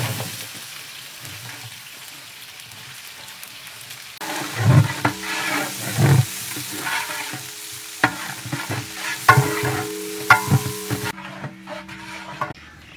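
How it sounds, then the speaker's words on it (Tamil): Onions tossed into hot oil with whole spices for a village mutton and jackfruit gravy, sizzling loudly and stirred with repeated scraping strokes in a large pan outdoors, no talking. "எப்பா வெங்காயத்தை சேர்த்துக்கலாம்ப்பா."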